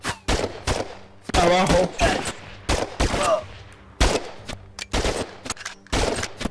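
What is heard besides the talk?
gunfire in the video game Operation Serpens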